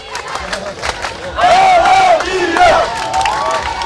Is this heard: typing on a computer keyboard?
no